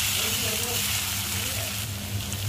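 Green chili kharda sizzles as it is stirred into onions in a hot pan: a steady, close, fairly loud hiss of frying runs the whole time without a break.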